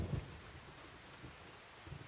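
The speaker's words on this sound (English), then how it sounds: "Looks like the rain's gonna stop before 10 a.m." Rain falling in the Farming Simulator 25 video game, a steady soft wash of rainfall with low rumbles near the start and end, heard alone without voices.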